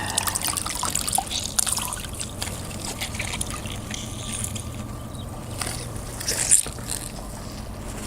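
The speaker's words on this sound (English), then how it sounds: "Squeeze all the water out of the chamois." Water squeezed out of a chamois while cleaning gold concentrates with mercury: a continuous trickle and dribble of liquid close by, with faint handling noises and a small splash near the end.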